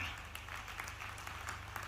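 Crowd applause at a tribal pride day rally in Madhya Pradesh, a faint, steady patter of many hands clapping at a distance beneath a low hum.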